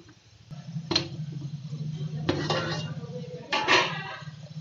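A pot of sweet yellow rice with dry fruits has a lid set on it, giving a few sharp metallic clanks against the rim over a low stovetop hum, each clatter brief and close.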